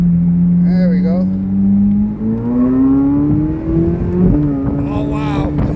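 A 2023 Corvette Z06 3LZ Z07 convertible accelerates on a road, its loud engine note rising steadily in pitch. A sudden drop marks a gear change before the drone settles again, with road rumble throughout.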